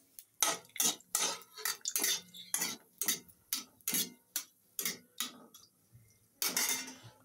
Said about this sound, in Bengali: প্রথমে তেজপাতাটা দিয়ে একটু নাড়াচাড়া করে নেব।